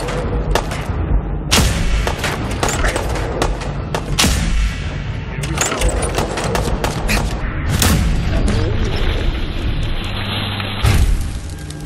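Laser musket in Fallout 4 being cranked and fired amid loud, dense combat, with repeated sharp booming blasts and crackling bursts spread across the whole stretch, heavy and close throughout.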